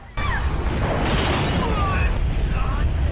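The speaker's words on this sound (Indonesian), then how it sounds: "seseorang sengaja meninggalkan bom yang membuat restoran itu seketika saja meledak" A bomb explodes and destroys a restaurant, a sudden loud blast followed by a continuous roaring, crackling wash of debris and rumble that stays loud to the end.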